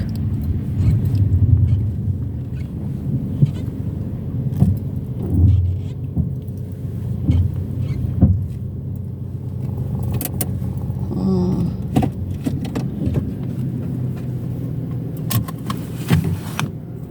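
A car rolls to a stop and parks on a private road in a residential neighbourhood, its low engine rumble steady throughout, followed near the end by brief metallic key jangling close by.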